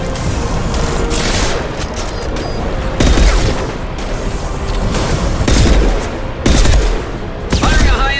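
Sustained rapid gunfire from the video game Mass Effect 2 Legendary Edition, with dense bursts and heavy booming impacts crashing in every second or so, loud and close throughout.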